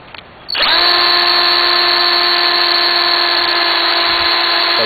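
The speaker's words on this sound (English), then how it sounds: "You just drill a hole with about a quarter inch bit" A power drill with a quarter-inch bit boring a hole into a tree spins up abruptly and whines steadily at high speed, loud and close, with no pauses or talk.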